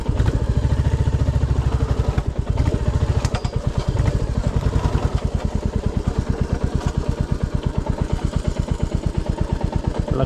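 A Royal Enfield Classic 350 motorcycle with its engine overheat warning on, thumping along an offroad red-dirt track, a loud rapid pulsing single-cylinder beat that steadies into an even chug.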